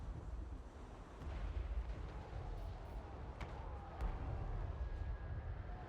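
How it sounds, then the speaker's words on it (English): Mortar barrages in Total War Warhammer III: a steady low rumble of distant artillery with a few sharper impacts cracking through, no voices. "Look at those mortars coming in."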